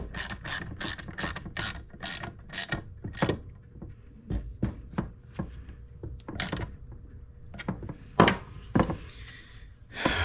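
A ratchet tightens down a part on a Vespa Rally 200 engine during a rebuild, giving a close run of crisp, evenly spaced clicks that slows into scattered strokes with gaps, then a few sharper knocks at the end.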